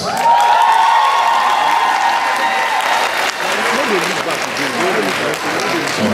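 An audience at an author talk in Lagos applauds loudly and steadily, a dense wash of clapping from many hands that holds for several seconds.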